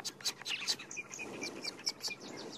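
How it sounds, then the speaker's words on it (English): Tawny-flanked prinia and white-bellied sunbird calling in wild bushland at sunrise: a run of short, high, bright chirps and thin whistled notes, fairly close and steady over soft insect hum, with no voices. "There's also a white-bellied sunbird going."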